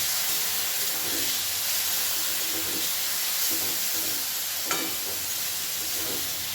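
Spice masala for a hilsa fish head dish sautés in a pan after a splash of water, giving a steady steamy hiss and sizzle with soft stirring scrapes throughout.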